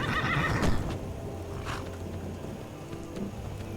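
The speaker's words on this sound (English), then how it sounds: "Ah, yes, the beautiful horse. You hear him coming." In Skyrim, the horse Shadowmere gives a loud whinny up close, followed by clip-clopping hooves and a patter like rain in the game world.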